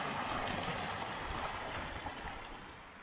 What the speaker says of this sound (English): a log of wood making a waterfall, not a rock